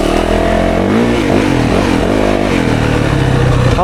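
A 2024 Yamaha YZ 450FX dirt bike running a softened custom map rides woods single track, its engine loud and close with continuous revving that rises and falls as the throttle is worked.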